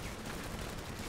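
Dense, continuous battle noise of grenade blasts and rapid gunfire from Command & Conquer: Tiberium Wars, a steady loud wash of overlapping shots and explosions with no clear gaps.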